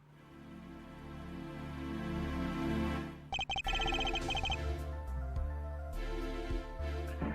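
A phone rings in the Apollo Justice courtroom game: a bright electronic trill bursts in briefly and repeats a few times over a steady, loud music track.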